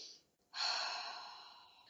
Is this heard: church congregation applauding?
no